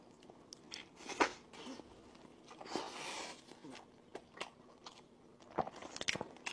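Someone bites into and chews barbecue filled with egg, bacon and beef, producing close, soft crunching and wet chewing sounds in irregular bursts, with faint background noise.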